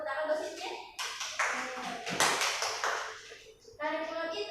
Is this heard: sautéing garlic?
no